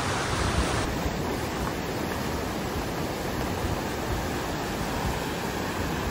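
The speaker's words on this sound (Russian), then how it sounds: "Это может даже не такие сильные волны." Ocean waves wash on a beach in Phuket, Thailand, in a steady, broad rush of surf that stays constant and moderately loud with no distinct breaks.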